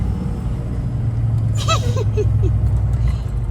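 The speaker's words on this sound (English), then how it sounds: "It sounds like a semi." A rare classic truck pulls away nearby, its engine rumbling low and steady with a brief rising whine partway through, sounding much like a semi.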